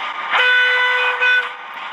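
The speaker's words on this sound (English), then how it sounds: "Try the multiple whistle one." A Hornby model train sound decoder plays a multi-tone train whistle as a steady chord, briefly dipping then returning for a second short blast, loud and close.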